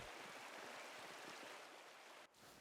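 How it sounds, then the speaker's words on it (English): A waterfall in the video game Pentiment, fed by snowmelt from the mountains above an abbey, gives off a steady, faint rushing hiss with a brief dip near the end and no voices. "Waterfall must flow down from the snowmelt in the mountains above the abbey."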